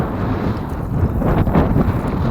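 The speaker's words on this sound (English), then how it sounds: "the wind is working against me right now." Steady wind blows hard against an outdoor microphone on the water, a continuous loud buffeting roar that swells briefly near the middle.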